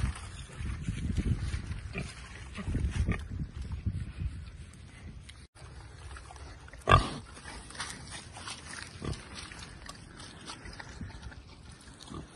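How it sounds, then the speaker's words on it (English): Pigs grunting at a farm animal sanctuary in winter, low snuffling grunts in clusters over the first seconds, then quieter rustling with one sharp clatter midway. "most of the pigs are super friendly and they absolutely love a bit of attention"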